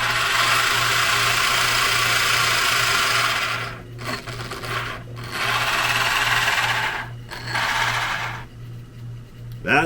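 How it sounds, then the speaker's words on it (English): An RC steampunk submarine's propeller motor whirs with a steady high mechanical hum, close and loud, cutting out briefly a few times before spinning back up. "We'll fire up our propeller."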